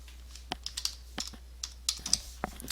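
Short bursts of typing on a computer keyboard, entering text into a spreadsheet cell: a handful of crisp, close key clicks in an uneven rhythm over a low steady hum, with no speech.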